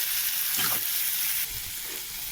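Food with salt and turmeric fries in a pan, giving a steady broadband sizzle with a couple of soft stirring scrapes.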